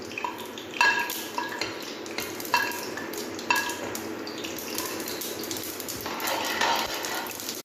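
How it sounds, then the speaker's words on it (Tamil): Mustard seeds splutter in hot oil while a spoon stirs and taps the pan, a sizzling bed with scattered sharp clinks and pops, growing busier toward the end. "எடுத்து வைத்திருந்த கடுகை இட்டு பொரிய விட வேண்டும்"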